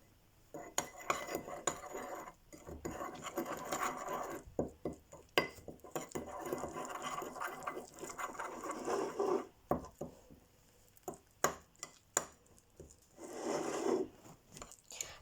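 A spoon scrapes and clinks irregularly against a bowl as a slime mixture with flour is stirred up close, with uneven bursts of rattling and short pauses between strokes.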